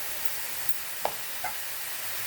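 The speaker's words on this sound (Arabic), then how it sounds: "هنا معانا طاسة هنحط فيها حبة البصل وعليهم حبة ايه، سمنة، معلقة سمنة بس" Chopped onion sizzles gently in a pan with a spoonful of ghee and a drop of oil, a soft steady frying hiss with a couple of faint stirring clicks.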